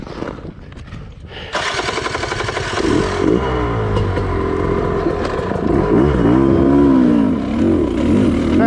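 A Sherco enduro motorcycle engine revving hard in second gear, loud and close, with its pitch repeatedly rising and falling after a quieter idle at the start.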